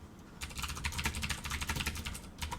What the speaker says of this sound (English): Pardon my loud keyboard.